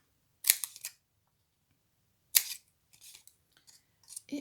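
Scissors snip through paper while a caterpillar-shaped craft box is cut out, two crisp cutting bursts a couple of seconds apart, followed by softer rustling and small paper handling sounds, close and quiet with no talking.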